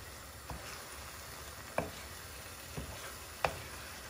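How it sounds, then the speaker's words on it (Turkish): Spices with mint, chili flakes and sumac frying in a pan, a constant close sizzle with a few sharp clicks of a spoon against the pan, no voices. "Ve güzelce kavrulmasını sağlayacağım."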